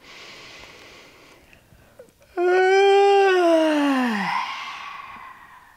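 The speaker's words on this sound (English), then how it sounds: "Just exaggerate your yawn as much as you want to, as big as you want to, and as loud as you want to." A long, loud, exaggerated yawn with a voiced tone that starts high and slides gradually downward before trailing off into a breathy sigh.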